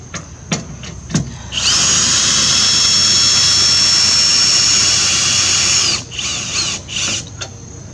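A cordless power drill runs in one long, high-pitched whine for about four seconds while lowering the stabilizer jacks on a Rockwood High Wall 276 pop-up camper. Short clicks and brief spins come before and after.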